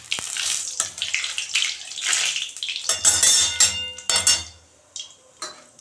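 Nigella seeds hitting hot mustard oil in a wok give a bright, crackling sizzle with a few sharp pops and metal clinks, loud and close, easing off toward the end with no talking.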